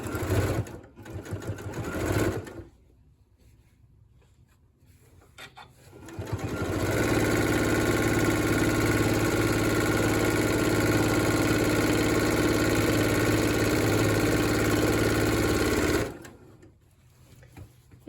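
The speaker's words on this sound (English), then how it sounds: "We're just stacking our fabric wrong sides together and sewing that 1/2 inch seam allowance." A sewing machine runs a half-inch seam on stacked rag quilt fabric, a few short starts followed by a long, steady, loud whir of about nine seconds before it stops.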